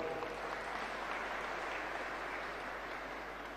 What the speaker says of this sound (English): Kampala Parents School, please clap for them.